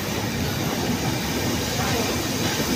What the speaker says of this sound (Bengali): মধুমতি এক্সপ্রেস ট্রেনটি ফরিদপুর রেল স্টেশন ছেড়ে যাচ্ছে।